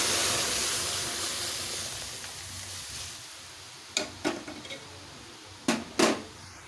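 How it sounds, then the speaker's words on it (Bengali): Boiled moong dal goes into a hot tempering for a vegetarian dal, raising a loud steady sizzling hiss that gradually fades, followed by a few sharp clanks of utensils against the pot. "এবারে ডালটা যে সেদ্ধ করে রেখেছিলাম ওটা ফোড়ন দিয়ে দেবো।"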